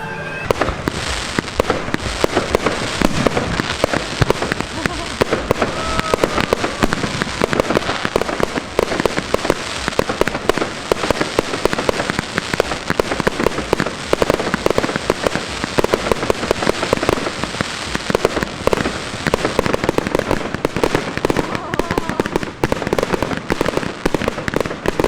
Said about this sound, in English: sat back on the beach to watch the fireworks